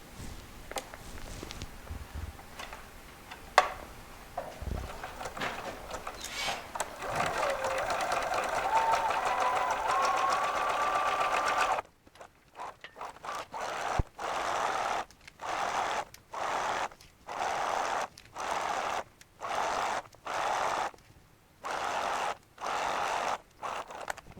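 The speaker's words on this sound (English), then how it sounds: "I'm going to use a zigzag stitch. I'm going to do it 1 millimeter wide and a little over 2 millimeters long" A sewing machine runs a narrow zigzag stitch along a dress side seam, first in one long steady run, then in a series of short, evenly spaced bursts separated by brief pauses.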